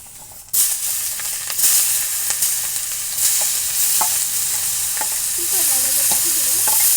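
A fish head fries in hot oil, sending out a loud, close, continuous sizzle with bursts of spattering and popping and occasional clinks from stirring.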